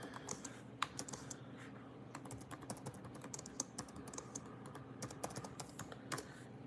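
Rapid, continuous keystrokes on a computer keyboard, close and fairly quiet, with irregular clicks and small bursts throughout and no voices.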